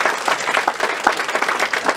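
An audience at a business training seminar claps loudly, a brisk burst of dense applause close to the microphone with no talking.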